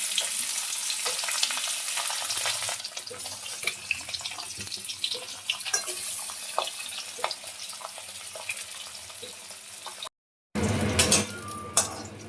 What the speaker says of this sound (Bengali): কড়াইতে তেল গরম করতে দিয়েছি, এবার মাছগুলো দিয়ে দেব।